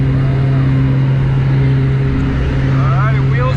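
Small skydiving airplane climbing after takeoff, a loud steady engine drone with strong low harmonics filling the whole span, close and continuous, with brief speech mixed in near the end.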